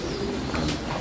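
Racing pigeons coo softly and steadily at close range, with a low burbling murmur over a constant background hum.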